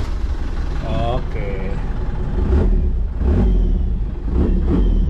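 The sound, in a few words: Toyota FJ40 with Mega Cruiser engine starting and revving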